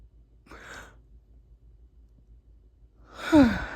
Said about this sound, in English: Sorry, y'all, Flosstube yawns.